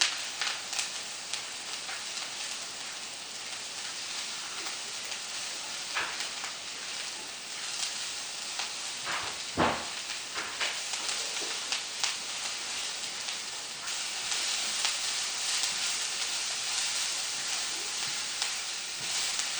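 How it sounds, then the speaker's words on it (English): Mushrooms saute with light brown onion in a hot pan, giving a soft, continuous crackling sizzle with occasional scrapes and taps of a utensil, fairly quiet and steady throughout, no talking. "The onion already light brown, so I will saute some mushroom."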